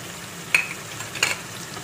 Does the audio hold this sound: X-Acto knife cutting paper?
no